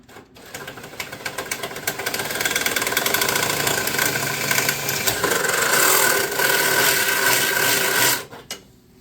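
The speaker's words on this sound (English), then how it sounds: "Drill the pilot hole from the top." A power drill whirs loudly and continuously for several seconds, its pitch steady and grinding as it bores a pilot hole for an auxiliary oil tank on a 1966 Puch Allstate motorcycle, then stops abruptly.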